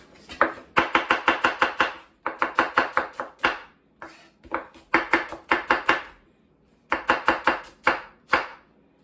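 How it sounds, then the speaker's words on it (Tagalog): A knife chops onion on a cutting board in fast rhythmic bursts of crisp knocks, close and clear, with brief pauses between runs. "chop na natin yung onion"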